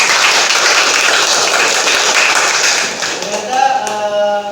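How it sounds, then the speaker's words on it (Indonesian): Classroom applause from a group of students, a dense burst of clapping that carries on for several seconds before fading, with a voice starting to speak near the end. "Oke, tepuk tangan untuk Jube."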